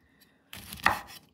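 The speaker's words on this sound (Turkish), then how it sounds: "Şimdi de meyvelerimizi şöyle ikiye bölerek doğrayalım." A single sharp knife stroke cuts a kumquat in half on a board, a short crisp slice with a brief wet crunch, close and fairly quiet.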